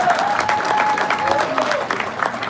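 A crowd at a political candidate forum cheers and applauds, a dense, loud wash of clapping with voices mixed in throughout.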